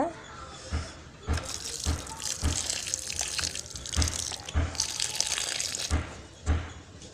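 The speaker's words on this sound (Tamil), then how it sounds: "இப்போ வந்து தண்ணி விட்டுருங்க" Water pours and splashes in bursts onto a potted jasmine plant, with several surges and brief pauses, close by, like a stream soaking into soil.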